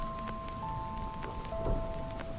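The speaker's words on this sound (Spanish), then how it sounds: "las gotas de lluvia eran cada vez más pesadas y golpeaban con más violencia los cristales del coche" Heavy rain drumming steadily on the glass of a car at night, a dense, continuous hiss with scattered sharper drop hits, fairly close and even throughout, with no voices.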